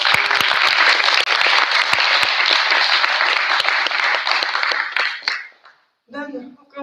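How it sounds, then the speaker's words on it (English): Loud, dense applause from a crowd for alumni at a student gathering lasts about five seconds, then tails off into silence before a voice starts speaking. "Let's yes, applause for our alumni as well."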